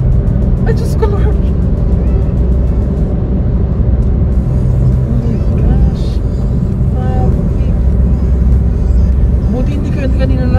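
Dense traffic on Manila's Skyway expressway, a constant low rumble of engines with vehicles droning nearby, while people chatter over it throughout.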